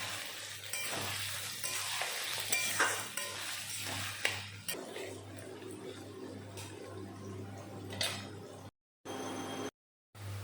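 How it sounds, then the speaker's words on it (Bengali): Chopped onions frying in white oil in a hot wok, a continuous sizzling hiss with occasional stirring scrapes and utensil clinks, briefly cutting out twice near the end. "দিয়ে দিলাম কুচানো পেঁয়াজ"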